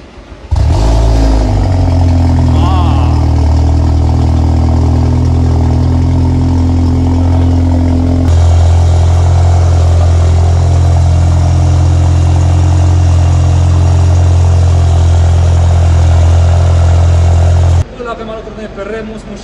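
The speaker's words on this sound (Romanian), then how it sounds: "să vedem cum se aude noua evacuare" Car engine with a newly fitted exhaust starting up and idling close by, a deep loud droning rumble with strong low tones, one change in pitch midway, then cutting off near the end.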